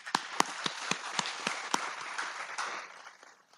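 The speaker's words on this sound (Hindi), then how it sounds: "तालियां।" A congregation at a priestly ordination gives a brief round of applause, a few loud separate claps at first, then thinning scattered clapping that fades out.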